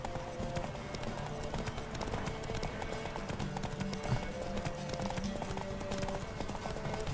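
Horse hooves in The Witcher 3: Wild Hunt clip-clop in a quick, steady galloping rhythm over background music, continuous and fairly close.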